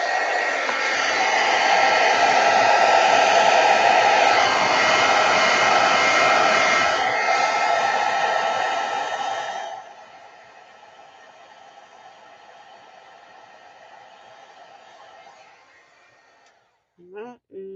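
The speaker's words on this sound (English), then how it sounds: "Now this is going to be noisy. You guys know that, right? Heat embossing gun." A heat embossing gun, a Wagner tool used to melt embossing powder for card making, blows with a loud steady roar for about ten seconds, then drops to a quieter fading whir before a couple of brief clicks at the end.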